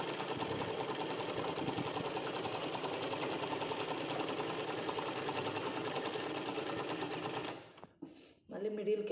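A sewing machine stitches a long frock in one continuous, loud, close run of rapid rhythmic whirring, then stops abruptly near the end, leaving brief handling noises.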